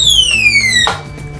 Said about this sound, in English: Now we got an alarm